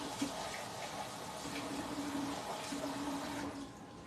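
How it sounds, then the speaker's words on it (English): Water poured into a tumbler in a home curry kitchen, a soft continuous splashing and rushing fill lasting several seconds, faint and close with no voices. "fill this tumbler with water and keep it ready"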